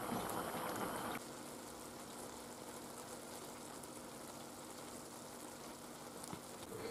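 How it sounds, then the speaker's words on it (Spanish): Arroz a banda boiling in a pan, a steady low bubbling wash that runs throughout at faint level, a little louder for the first second, with no voices. "Ya ha empezado a hervir y ahora 20 minutos."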